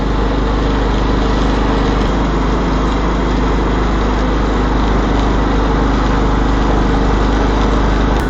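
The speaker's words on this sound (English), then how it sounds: "one of these John Deere Lt155 lawn mowers with the Freedom 42-inch mulching deck" A steady, loud engine drones without pause, the continuous mechanical hum of a 25-year-old John Deere LT155 riding mower with a 42-inch mulching deck running close by.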